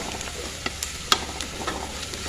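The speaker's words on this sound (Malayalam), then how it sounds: "ഉള്ളി ഒന്ന് വാടട്ടെട്ടോ" Chopped onions sautéing in a pan make a steady close sizzle, punctuated by a few sharp spatula clicks and scrapes as they are stirred.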